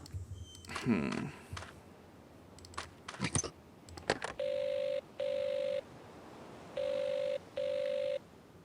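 A telephone rings in the Evil Under the Sun video game, giving four steady electronic bursts in two pairs, loud and clear after some earlier clicks and brief talk.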